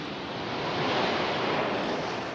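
Surf rolls onto the beach where swimmers come ashore, a broad, steady wash of breaking waves that swells slightly in the middle, with a touch of wind and no voices.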